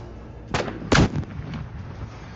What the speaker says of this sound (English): The missile of this anti-tank missile system easily covers such a distance and hits its target.